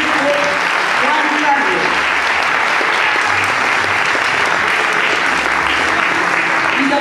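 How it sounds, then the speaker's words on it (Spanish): A crowd claps steadily and loudly at a spring queen coronation ceremony in Arica, sustained applause filling the space throughout, with faint voices beneath. "Un aplauso entonces para el México Juan"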